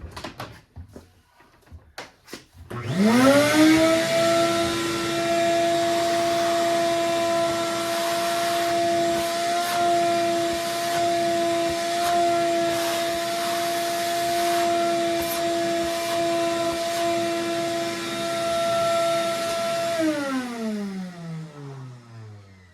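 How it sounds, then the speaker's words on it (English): A vacuum cleaner switches on with a rising whine, runs loud and steady with a strong tonal hum for most of the clip, then spins down. "turn on the vacuum, it's probably gonna be very loud"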